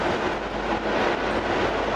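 A bus on a dedicated busway in Bogota gives a dense, continuous roar of engine and road noise, heard from inside at steady loudness with no talk.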